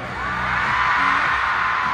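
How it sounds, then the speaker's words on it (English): Fans screaming and cheering at a concert in Bulacan, a dense, loud, sustained crowd roar that swells slightly and holds steady throughout with no talk over it. "정말 이렇게 많은 우리 팬들의 환영 소리를 들을 수 있다니"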